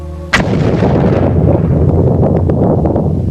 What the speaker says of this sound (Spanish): una explosión que se oyó a miles de kilómetros de distancia